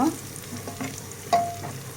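Black cardamom pods and other whole spices fry in oil for a beef pressure-cooker dish, giving a soft, steady sizzle with a few light clicks and stirring scrapes, no voices over it.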